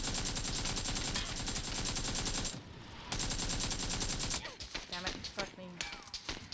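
Video game gunfire, long sustained automatic bursts broken by a short pause, then scattered shots with voices over the action.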